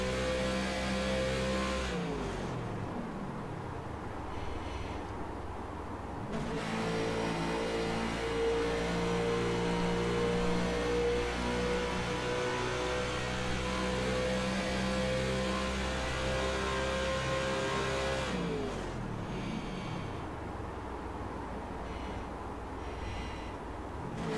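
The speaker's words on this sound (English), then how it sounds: "You'll hear him shutting his car off" Lambert's Xfinity Series race car at Texas, heard onboard, roars with a loud sustained engine drone that drops away as he shuts the car off, then holds a steady tone before a second fall near the end.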